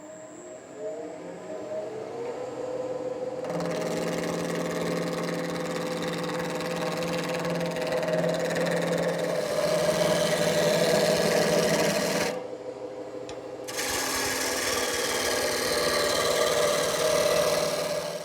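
A gouge bites into a wood blank spinning on a lathe to round it, producing a sustained scraping, rasping whine under a steady motor hum, with a brief pause before cutting resumes.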